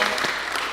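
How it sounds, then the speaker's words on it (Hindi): Brief, dense applause from a studio audience at an interview talk show, filling the whole moment at a steady level. "तालियां।"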